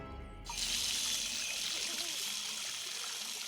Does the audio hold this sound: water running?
yes